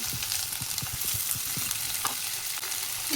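Capsicum, tomato and peas sizzle steadily in a hot pan, with a run of soft, regular scraping strokes from stirring, close and continuous with no talking.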